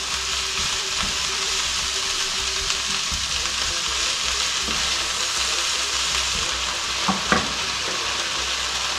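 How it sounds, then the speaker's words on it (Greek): Leeks and finely chopped onion sauté in a pan with a steady, continuous sizzle and crackle, close and fairly loud, with a few sharp clinks from stirring near the end. "Έχουν αρχίσει τα πράσα μας να σοτάρονται, θα βάλουμε το ένα κρεμμύδι"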